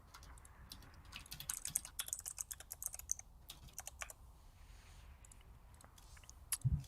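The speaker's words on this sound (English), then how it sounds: "So I'm typing to Jabelka and asking if he wants to play on NA." Rapid bursts of typing on a computer keyboard, close and fairly quiet, with uneven key clacks that thin out toward the end; a voice speaks a single short word.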